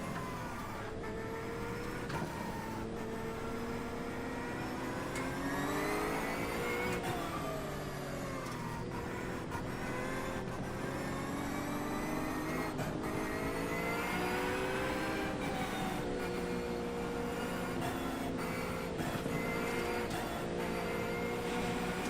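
Porsche 911 GT3 R race car at Summit Point in the rain, its engine droning steadily with repeated rises and falls in pitch as it weaves behind other cars before a green flag.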